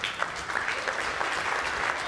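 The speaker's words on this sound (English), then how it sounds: "Everybody give him a round of applause." An audience applauds a presenter being introduced on stage at a tech event, a dense, even wash of clapping from many hands, moderately loud and steady throughout without talk.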